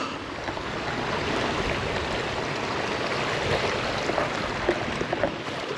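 A river rushes steadily up a rocky clough at Torside, broadband and continuous, close and fairly loud with no voices.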